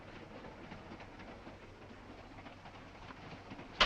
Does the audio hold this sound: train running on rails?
yes